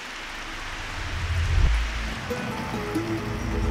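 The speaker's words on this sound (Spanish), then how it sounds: "La neblinosa lluvia" Misty drizzle falls along the Carretera Austral in Chilean Patagonia, a steady soft hiss of fine rain with a low rumble swelling briefly midway, no voices.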